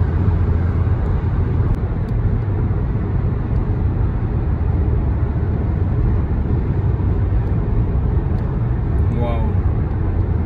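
A car cruises along a motorway in Poland on a long road trip, with a loud, steady cabin roar of tires and wind that holds unchanged from start to finish.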